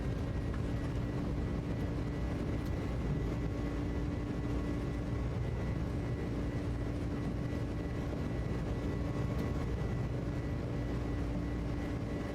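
Airbus A300-600R jet rolling down the runway for take-off in a flight simulator game, a steady loud engine roar with low rumble and a faint tonal whine, unbroken for the whole stretch with no talking.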